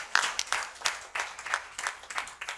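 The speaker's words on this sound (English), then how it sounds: "a big round of applause for that" Audience applause with rapid, dense clapping that rises and falls in several swells, fairly distant and moderately loud, with no voices over it.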